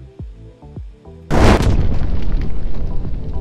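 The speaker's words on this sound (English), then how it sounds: "That's Thomas the nuclear bomb!" A nuclear bomb explosion in the video game Brick Rigs, a sudden huge boom breaking after a few quieter game sounds, then a long loud rumbling roar that fills the rest of the clip.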